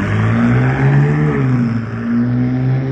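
A McLaren car pulling away down the block, its engine a loud, close, steady drone that rises in pitch as it moves off, dips briefly, then picks up again, with no talk over it.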